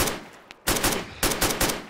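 Bursts of automatic gunfire in the hunting game The Hunter, one short shot followed by two loud rapid volleys, close and sharp with no talk over them.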